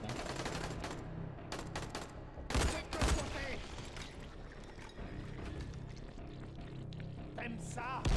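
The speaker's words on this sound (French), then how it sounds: "Fusil de chasse à double canon." A double-barrelled hunting shotgun fires in the video game Dying Light, with a few heavy blasts standing out from busy game noise and clattering action, while a player talks throughout.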